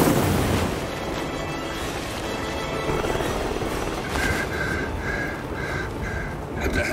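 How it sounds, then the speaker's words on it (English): A helicopter lifts off in the video game Hitman 3, set in Dubai. Its loud, steady rotor and engine roar fills the scene, with a rhythmic pulsing whine rising toward the end. "Alexa Carlisle's helicopter just took off"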